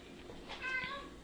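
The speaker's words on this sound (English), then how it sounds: "Cat." A cat meows faintly in a home kitchen during a baking stream, giving one short, tonal mewl over steady background noise, with no talking during it.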